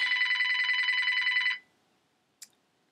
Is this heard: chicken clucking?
no